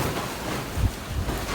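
Gusty wind blows outdoors beside an anthracite forge, a low rumbling buffeting on the microphone with one brief stronger thump, no talking.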